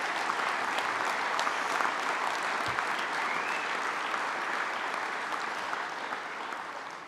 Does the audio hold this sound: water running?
no